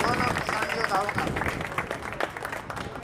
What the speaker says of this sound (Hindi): आप सभी से एक बार जोर से तालियों से स्वागत करते हैं दोनों किसान योद्धाओं का